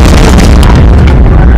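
A tank blown up at a checkpoint in the military game Arma 3 sets off a loud, dense blast with a booming low rumble that swells and lingers, filling the whole moment.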